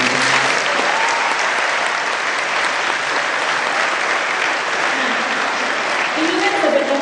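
Sustained audience applause fills the hall at a school talk show, steady and dense throughout with occasional voices faintly underneath.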